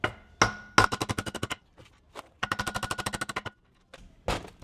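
Hammer blows knocking wheel studs out of a Nissan 370z hub flange clamped in a vise, delivered in fast rapid bursts of sharp metallic strikes, loud and close, with short pauses between the bursts.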